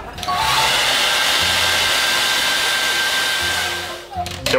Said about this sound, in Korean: 이 다음에 드라이기로 옮겨줘.